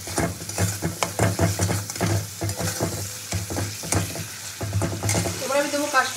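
Spice masala for a sweetish prawn curry frying in oil, stirred with repeated scraping strokes over a steady close sizzle.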